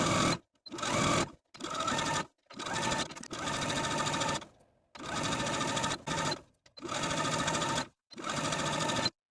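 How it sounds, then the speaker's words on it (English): A sewing machine edge-stitches sleeve hems close to the inner fold, running in a series of rapid, even stitching bursts separated by short pauses, heard up close and alone. "edge stitching close to the inner fold all the way around both sleeves"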